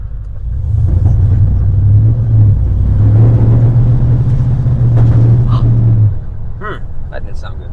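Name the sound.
1950 Cadillac hearse engine running, possible backfire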